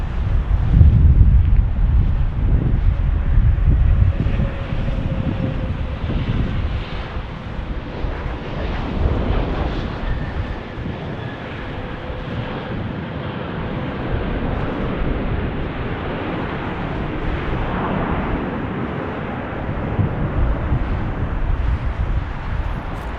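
Strong crosswind of about 20 knots at an airport in Las Vegas, gusting in a continuous low rumble across the microphone, loudest at the start and easing slightly, with no talk.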